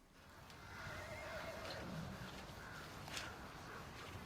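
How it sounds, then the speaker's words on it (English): A horse whinnies as a sound effect during a Dungeons and Dragons Dragonlance session, the neigh rising faintly over a low background hiss, with a brief sharper burst near the end and no clear hoofbeats. "That was a horse."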